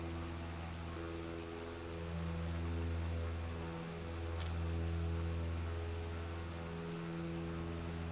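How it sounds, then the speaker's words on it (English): In a flight simulator, a small propeller plane drones steadily, its low engine hum swelling and easing slightly as the pitch shifts, with a faint tick partway through. "So we're not going to be able to catch up in this little dinky little plane here."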